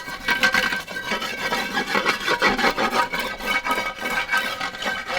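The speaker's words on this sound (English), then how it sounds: "I'll just take this here brick and just kind of grind some of the loose stuff off" A brick grinds loose, flaky paint off a surface in steady, continuous scraping strokes, close up and loud, with a rough rasping texture and no speech.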